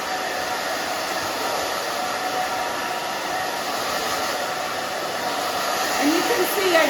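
Steady, loud hair dryer roar close by as a short textured pixie haircut is blown dry, the airflow continuous throughout and shifting slightly near the end as the dryer moves.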